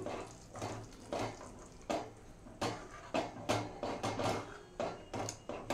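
A pot of black chana masala curry being stirred: steady, repeated scrapes and soft knocks of a spoon against the pot, roughly one every half second, close and fairly quiet.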